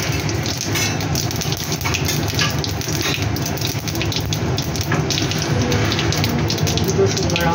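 Dried red chilies and whole cumin sizzling in hot oil in a Bengali kitchen, a loud, continuous crackling and spattering that runs steadily throughout.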